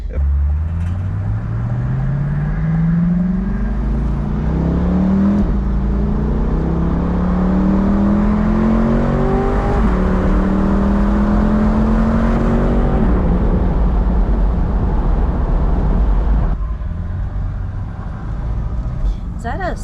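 A 2022 Chevy Corvette C8 Stingray engine pulls hard while driving, its pitch climbing through repeated gear-by-gear rises that drop and climb again, loud and steady from inside the cabin for about thirteen seconds before settling into a rumbling cruise.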